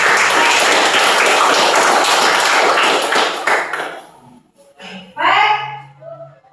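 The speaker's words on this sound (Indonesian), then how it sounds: "kita tepuk tangan kepada" Loud hand clapping from a group in an Indonesian economics class, steady for several seconds, then breaking off into brief voices and a lingering tone.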